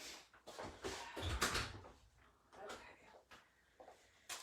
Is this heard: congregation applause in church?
no